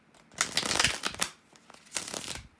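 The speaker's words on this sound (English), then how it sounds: "to shuffle the tarot cards" Tarot cards are shuffled by hand in two quick bursts of riffling and flicking, close and crisp, with a short pause between them and no talking.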